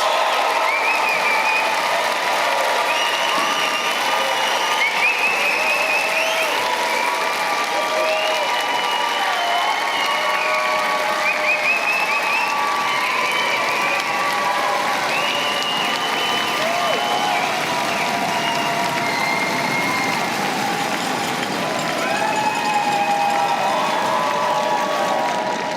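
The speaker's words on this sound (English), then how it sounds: "I told you I'd give you some time for some thunderous applause." Sustained, loud applause and cheering from a large crowd honouring Faculty of Environment graduates at a convocation ceremony, a dense wash of clapping with whoops and shouts running steadily throughout.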